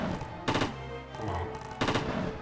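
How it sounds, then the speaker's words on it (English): A shotgun in the video game Blue Stinger fires two sharp, loud blasts about a second and a half apart, each a broad burst with a short tail, separated by a low mechanical hum and clatter. "we're just gonna shoot shotgun bullets and hope for the best"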